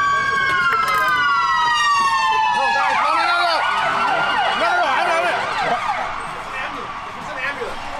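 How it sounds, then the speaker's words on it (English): An ambulance siren wails loudly, its pitch sweeping up and down in rapid yelps as it passes close, then fades slightly with traffic noise underneath. "It's just an ambulance."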